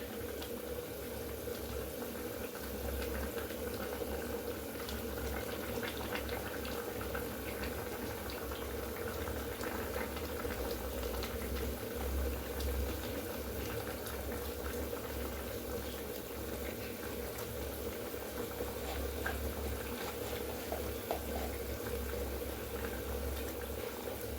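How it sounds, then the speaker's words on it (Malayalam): Sardines cook in a pot of boiling curry broth, giving a steady, continuous bubbling simmer at moderate loudness for the whole stretch, with no voices. "ഇനി നമുക്ക് ഇത് ഈ തിളക്കുന്ന ചാറ് തിളക്കുന്ന ഇതിലേക്ക് ഈ ചാള ഇടാം."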